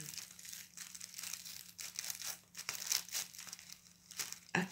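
Tissue paper crinkles and rustles close by in quiet, uneven bursts, with a few sharper crackles and a faint steady hum underneath.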